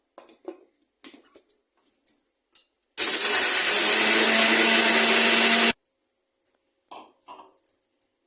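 A mixer grinder whirs loudly for about three seconds, grinding ginger, green chilli, cumin and salt, a steady dense roar that starts and stops abruptly, framed by sparse clicks and handling knocks before and after.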